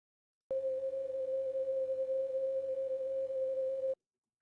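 Sustained synthetic drone made by stretching an audio clip with warping, a single steady pitched tone with faint overtones that starts abruptly, holds evenly for about three and a half seconds, then cuts off, alone and fairly quiet.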